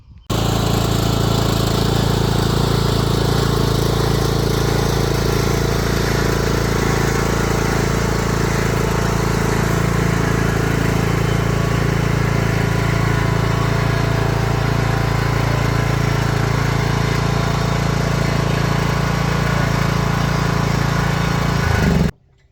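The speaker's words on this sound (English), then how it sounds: "let's give it a try and see if we can load the lawnmower on that" A lawn mower engine drones steadily and loudly for about twenty seconds at close range while driving up loading ramps, then cuts off abruptly.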